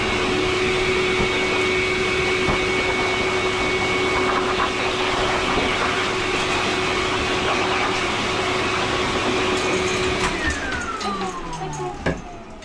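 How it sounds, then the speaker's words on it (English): A blow dryer runs steadily on a small dog during a grooming session, a loud continuous whooshing hum held throughout before easing off near the end. "Quick blow dry one last time."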